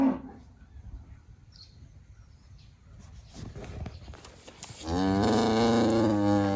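Purebred Lowline bull, over 1,800 pounds, on a farm: after a few seconds of quiet shuffling, one loud, close, drawn-out moo fills the last couple of seconds.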